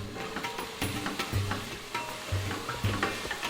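Spices are stirred into sizzling masala in a pan while making fish biryani with turmeric, coriander powder, garam masala and black pepper; a steady close sizzle runs under repeated scraping stirs of a spoon, with no voices.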